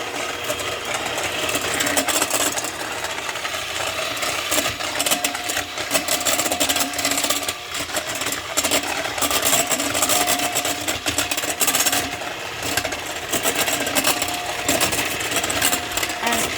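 An electric mixer whips sugar and coffee into a froth, giving a loud, steady high-speed whir with a gritty edge that runs without pause throughout.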